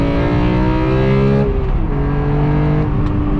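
BMW M3 E46 inline-six engine, close and loud, revving high, dropping pitch through a downshift and then climbing again in a smooth, continuous sweep.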